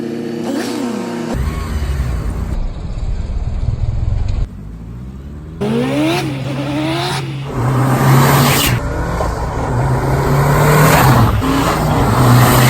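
A Mitsubishi Lancer EVO 4 on a test drive, its engine loud and close as it revs, shifts through gears and accelerates repeatedly, with road and wind noise filling the gaps.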